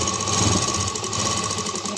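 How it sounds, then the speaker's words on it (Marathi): A sewing machine hums and chatters steadily up close while double stitching a seam on a small fabric travel bag, with no voices. "तर इथून आता पुन्हा मी ही डबल शिलाई करून घेते"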